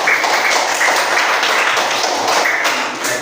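Students in a classroom clap together for everyone, a steady dense patter of hands that holds at an even level for a few seconds.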